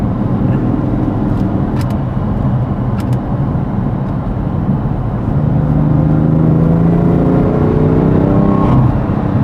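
BMW F81 M3 Touring engine pulling hard under acceleration from inside the car, a loud steady roar with rising tone toward the end over road rumble.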